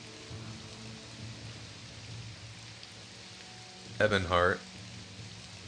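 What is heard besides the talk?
rain in video game Morrowind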